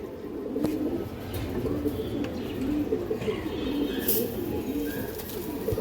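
Old-breed green gola pigeons coo in a loft, soft repeated low burbling calls overlapping steadily at close range, with faint background noise and occasional chirps.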